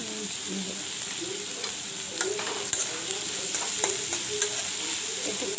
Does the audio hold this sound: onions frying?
yes